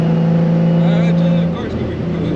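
A Nissan 350Z with a built turbo motor drones steadily from inside the cabin while driving, a constant low engine hum with a steady tone that eases off slightly toward the end.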